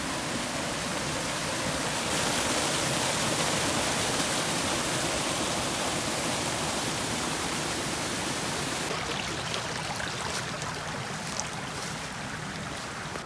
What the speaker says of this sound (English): There's a whole creek now running really high on water, and then it goes over this wall into this beautiful water basin.